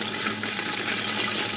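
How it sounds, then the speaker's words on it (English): Water boiling hard, heard as a dense, steady hiss and roil of bubbling that runs unbroken and fairly loud throughout. "And obviously, water is boiling."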